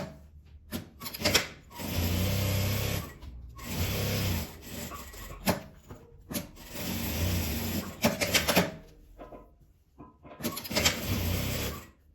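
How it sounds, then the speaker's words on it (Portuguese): A sewing machine stitches fabric in close, loud bursts of whirring needle action, separated by short pauses and rustling of cloth, with no talk. "E vou costurar."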